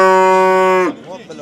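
A cow lets out one loud, close, sustained moo at a busy livestock market in Fergana, and it breaks off abruptly near the end as a short burst of speech follows.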